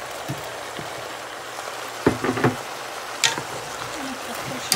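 Red onion frying in a pan gives a soft, steady sizzling hiss close by, with a few sharper crackles and light utensil clatters scattered through.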